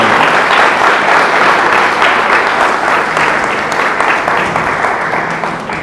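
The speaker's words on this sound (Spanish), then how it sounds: "Démosle ese aplauso a Jesús." A church congregation applauds in a dense, loud burst of many hands clapping together, sustained and slowly fading slightly toward the end, with no speech over it.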